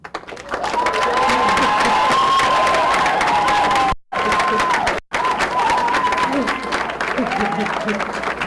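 An audience at the Columbus Scioto High School graduation applauds the graduating class, a loud sustained wash of clapping mixed with cheers and whoops, briefly cutting out twice before resuming.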